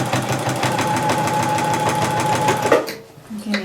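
A sewing machine stitches dress fabric at a half-inch seam, a steady fast mechanical whir that stops abruptly near the end, followed by faint handling noise.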